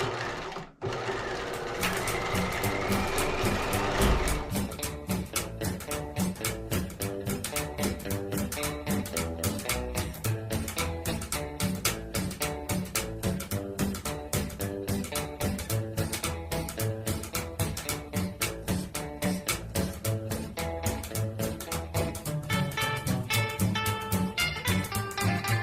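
Sewing machine stitching a lining to a facing from one hem to the other, a steady rapid mechanical chatter running almost without pause after a brief start.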